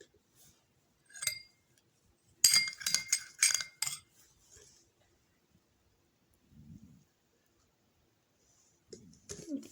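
Multani mitti and rose water paste is stirred in a bowl, giving a few sharp clinks of spoon against the bowl, then a dense cluster of clinks and scrapes, followed by quieter soft scraping.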